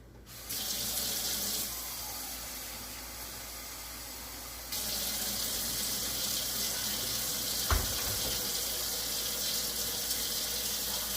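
Water from a kitchen tap runs steadily into a sink, close and loud, while Jewish rye bread is being baked; the flow strengthens partway through, and a brief knock sounds near the end.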